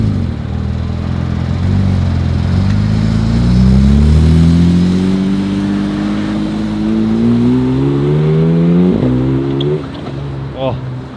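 A ruby-colored Porsche sports car engine revs and accelerates on a street in Zurich, rising steadily in pitch through several gear pulls, loud and close, with people talking over it.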